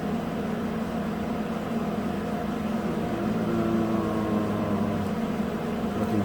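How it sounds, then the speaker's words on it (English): Household furnace fan running in the background, a steady low whir with faint hum tones, continuous and unchanging, no talking. "That's my engine, or my furnace fan running that you hear in the background."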